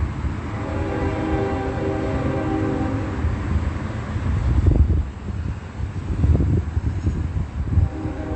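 A Union Pacific train rumbles past steadily with broad, roaring wheel and engine noise and buffeting wind on the microphone, with no voices.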